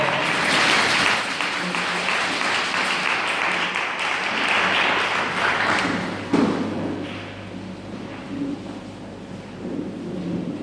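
Applause from a church congregation, a dense, loud wash of clapping that swells at the start and gradually thins and fades over about ten seconds.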